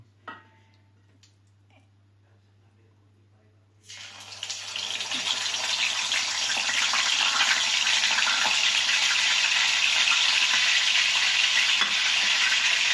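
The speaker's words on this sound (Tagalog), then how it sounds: "Lalagay na po natin po ating nilagang karne para ating maprito." Boiled pork dropped into hot cooking oil in a pan, a sudden loud burst of frying that settles into a dense, steady hiss and crackle, close and continuous, following a few quiet seconds.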